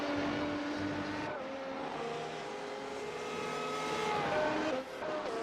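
Race cars at the Mugello Grand Prix circuit in a racing game roar steadily at high revs, several engines overlapping with pitch sweeps as they shift and pass, loud and continuous with no talk.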